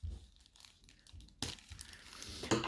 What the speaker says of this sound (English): I will just cut it here gently